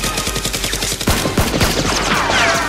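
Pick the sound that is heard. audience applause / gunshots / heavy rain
gunshots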